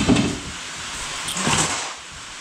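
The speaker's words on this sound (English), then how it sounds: "I'll open the door here." A car door is opened at the back of a car with a cut-out rear: a short latch click and creak, then a soft sliding, rattling movement, close by with no talking.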